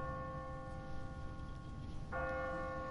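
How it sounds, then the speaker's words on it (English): A game's automatic church bell rings out with sustained metallic tones in The Walking Dead video game, set on a timer, with a fresh strike near the end that brightens and lingers over steady background ambience. "What kind of church bell goes off at 20 past the hour?"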